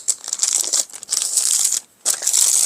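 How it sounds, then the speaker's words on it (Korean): A paper sewing pattern is being folded by hand, close up: a dense run of crisp crinkling and rustling in bursts, with a short pause before the rustling starts again. "1cm 올라온 쪽 종이를 접어줄 거예요."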